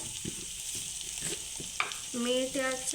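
Masala stirred in a hot pan for akka masoor sizzles steadily while a spoon scrapes in short strokes, with someone speaking briefly over it.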